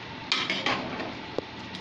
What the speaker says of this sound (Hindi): अब मैं डाल रही हूँ टमाटर का पेस्ट, सिर्फ एक टमाटर ही है, पीस लिया था मैंने इसे पहले। और अब मैं इसे अच्छे से मिक्स कर लूँगी।